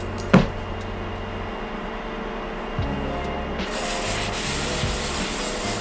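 Kosher salt is scrubbed around a hot carbon steel pan, a steady gritty rubbing and scraping texture with a sharp knock at the start and a louder, brighter scouring sound in the last couple of seconds.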